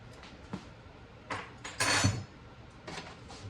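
Metal spoon scraping and clinking inside a pot of Brunswick stew being stirred, a few soft scrapes building to a louder clattering stretch midway, with no talk.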